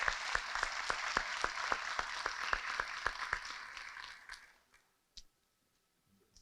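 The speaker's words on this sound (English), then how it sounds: "So please, one more time, round of applause." Audience applause at a 2022 fire department awards ceremony, a burst of many hands clapping that is moderately loud at first, then thins out and fades to scattered claps and near silence.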